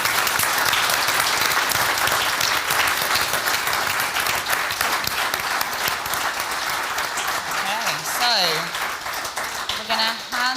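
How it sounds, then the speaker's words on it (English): Audience applause at a cancer survivorship gathering, a dense continuous wash of clapping that runs the full length, with a voice speaking briefly over it near the end. "I think they would need another clap."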